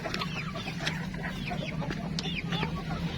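Chickens clucking outdoors on a rural farm, several birds giving repeated overlapping clucks and chirps at moderate distance over a steady low background hum.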